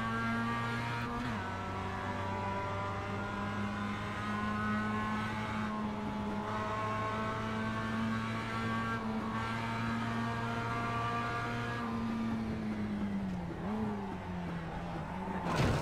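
A race car engine in a sim racing game drones steadily at high revs throughout, with strong harmonic tones that shift slightly through the run and dip briefly near the end, loud and continuous with no talk.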